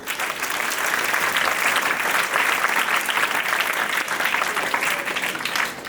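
An audience at a Vedic speech competition at a gurukul college claps steadily, a dense continuous round of applause lasting several seconds before tapering off at the end.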